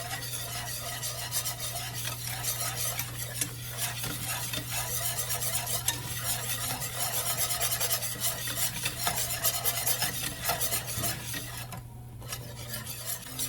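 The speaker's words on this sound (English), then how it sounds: "you want to add in a little bit of flour at a time and keep stirring on low heat" A utensil steadily scrapes and stirs flour into melted butter in a pan on low heat, making a roux for mac and cheese, with a continuous close-up rasping and a soft sizzle under a constant low hum.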